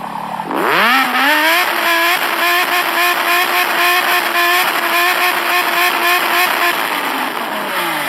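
A car engine revs up sharply and holds a loud, steady roar close by, wavering slightly before easing off at the end.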